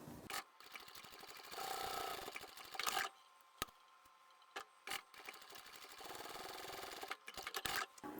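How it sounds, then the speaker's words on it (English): A sewing machine stitches channels in a lined cross-body satchel bag, running in long steady whirring bursts broken by pauses, with clicks and handling knocks between runs. "Let's take this to the machine and sew both of those channels."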